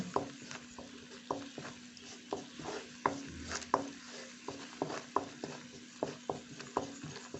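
Thai curry paste simmers in a pot while being stirred, giving a soft continuous bubbling sizzle broken by regular light scrapes and taps of a utensil against the pot, fairly faint and without talk.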